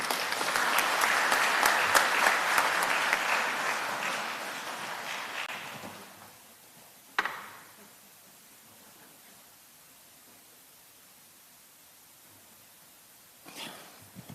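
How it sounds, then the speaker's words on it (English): Conference audience applauding at an energy sector event, loud sustained clapping for about six seconds that fades out, followed by near silence with a brief sharp knock and a faint stir at the end. "Please, another round of applause."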